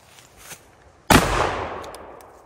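A 2 3/4 inch shotgun slug strikes a 3D steel lattice armor plate: a single loud, sharp blast with a ringing, slowly fading tail, preceded by a faint small tick.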